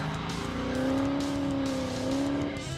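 A Dodge Challenger T/A 392 with a 6.4L HEMI V8, six-speed manual and sports exhaust holds a deep, loud, steady idle-to-rev rumble up close, the pitch swelling slightly and then easing.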